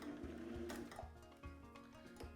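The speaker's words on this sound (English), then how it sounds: "I'm going to go backwards again just to lock that stitch in" A sewing machine runs in short stitching bursts, pausing briefly as it reverses to backstitch and lock a seam while sewing reusable cloth towels, with a steady mechanical rhythm and no voices.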